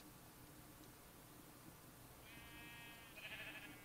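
Faint, high-pitched Minecraft sheep bleats rise late in the clip over a steady background hiss, two short calls close together.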